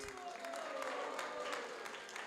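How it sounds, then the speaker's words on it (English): Thin, scattered clapping from a small group at a Sunday Feast program at ISKCON of Harrisburg, following a lecture, faint and sparse, with a voice speaking over it. "That's a very weak clap."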